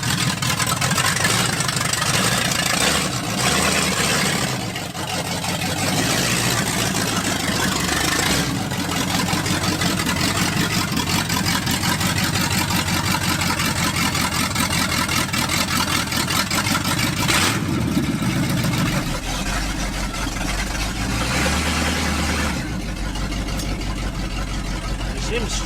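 A boat engine swapped into a 1979 Ford F150 pickup idles steadily and loudly close by, a continuous low rumble that runs through the whole stretch with slight unevenness, while people talk over it.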